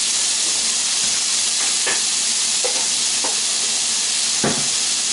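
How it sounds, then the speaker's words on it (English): About three cloves of minced garlic frying in a pan with translucent onion, a loud continuous sizzle and hiss up close with a few sharp stirring clicks and pops scattered through. "we're going to take about 3 cloves of garlic. Throw that in there."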